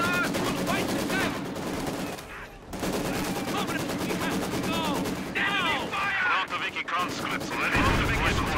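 Battle gunfire from the World War II strategy game Company of Heroes 2, with dense machine-gun bursts, rifle shots and artillery booms layered loudly over in-game soldier voice lines and shouts.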